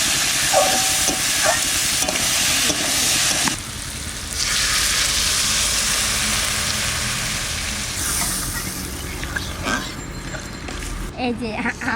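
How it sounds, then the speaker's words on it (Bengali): Lentils fry in a covered pan in a Bengali kitchen, a continuous loud hiss and sizzle with bursts of steam, while people talk over it at times and utensils clink near the end. "ডাল দিয়ে একটু ভালো করে ভাজা ভাজা করে দেবো"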